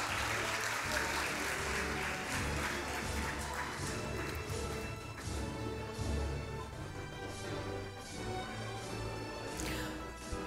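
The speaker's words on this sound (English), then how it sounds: "please give them a big round of applause" Sustained clapping from a crowd at a primary school annual day event, steady and fairly loud throughout, with a background hum underneath.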